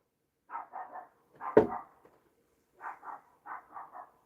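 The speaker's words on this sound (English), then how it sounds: "he barks for attention" A puppy barks in short bursts, two or three at a time, with a louder, deeper bark in the middle and a pause before more quick barks. The barking is close and clear, with no talk over it.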